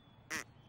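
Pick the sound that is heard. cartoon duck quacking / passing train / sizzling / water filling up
cartoon duck quacking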